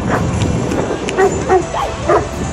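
A Newfoundland rescue dog barks in short yips and woofs, roughly four separate calls spaced across a couple of seconds, moderately close over steady background noise and rushing water.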